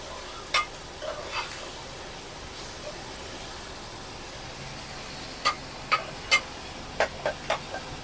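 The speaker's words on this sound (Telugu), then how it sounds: "పచ్చిమిర్చి ఉల్లిగడ్డ టమాటా వేపారండి" Onions, green chillies and tomatoes fry in a pan for a small-fish curry in Vizag, giving a soft continuous sizzle broken by sharp clicks of a stirring utensil, which cluster toward the end.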